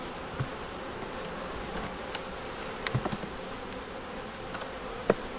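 Honey bees buzz around an open nuc box hive outdoors, a steady moderate drone with a few individual bees passing close and occasional faint clicks.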